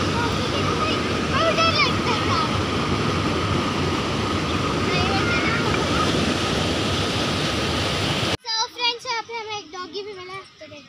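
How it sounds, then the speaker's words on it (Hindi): A strong flow of water pours into a fish pond in Bhaderwah, Jammu, a dense, continuous rushing roar that fills most of the clip before cutting abruptly to a voice. "यहाँ पे बहुत फ्लो से पानी आ रहा है"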